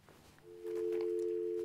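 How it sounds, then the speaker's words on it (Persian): A steady electronic tone from a dropped call on a radio call-in phone line begins abruptly after a short moment of quiet and holds evenly to the end. "تلفنشان قطع شد"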